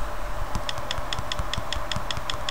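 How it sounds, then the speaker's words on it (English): Rapid, crisp ticks from an iPhone keyboard while typing, about a dozen light key clicks in a quick, slightly uneven rhythm, close and alone. "those are iPhone ticking sounds"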